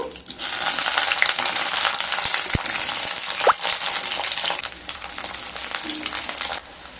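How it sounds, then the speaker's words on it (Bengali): Brinjal (eggplant) pieces frying in oil in a kadai, a steady loud sizzle and crackle running almost the whole time with a brief clink midway, then cutting off near the end; no talk. "এবার ওই তেলের মধ্যে বেগুনগুলোকেও ভেজে নেব।"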